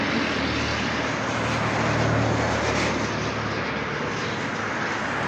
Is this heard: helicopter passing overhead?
yes